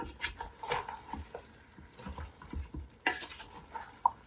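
Spoon stirring spiced curry in a cooking pan after three spoons of chili powder go in, with soft intermittent scraping and light sizzling, close and fairly quiet, with no talk.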